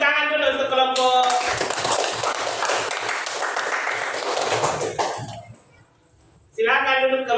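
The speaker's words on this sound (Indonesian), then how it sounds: "Tepuk tangan dulu untuk kelompok." A group of primary school children in a classroom coding lesson bursts into dense applause for about four seconds, fading out, with a teacher's voice before and after.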